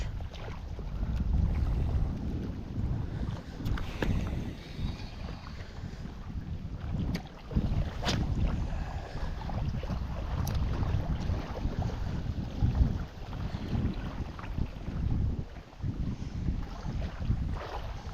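Strong crosswind buffets the microphone in low rumbling gusts, with water lapping against a boat while fishing for zander, steady throughout with no talking.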